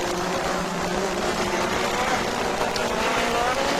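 Formula 1 cars from the 1985 Grand Prix season roar past during an overtake, a loud continuous high-revving engine wail with no voices.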